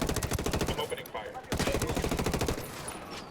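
Rapid automatic fire from a TAR assault rifle in Ghost Recon Wildlands, loud and close, in two sustained bursts separated by a short pause.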